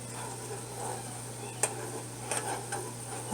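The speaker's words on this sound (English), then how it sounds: "As you can see, it is starting to boil really good." Flaxseeds boil in a pot of water while a spoon stirs them, giving a soft, steady bubbling hiss with faint scraping knocks of the spoon and a low hum underneath.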